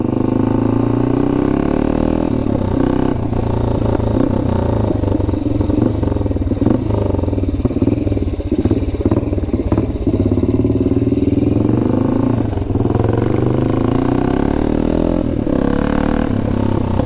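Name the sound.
motorcycle engine revving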